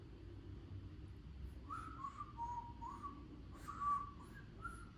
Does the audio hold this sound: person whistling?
yes